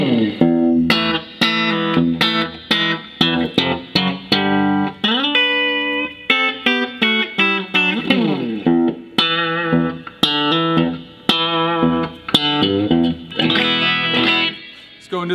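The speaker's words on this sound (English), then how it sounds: "Let's start here on the bridge pickup." A bright 1979 Fender Stratocaster on its bridge pickup plays through an amplifier, picking quick single notes and short chords loudly, with no talking.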